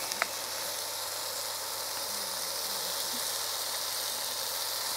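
King prawns frying with garlic as tomato ketchup goes into the pan, giving a steady, even sizzle with a brief sharp crackle near the start and faint scraping beneath, no talk.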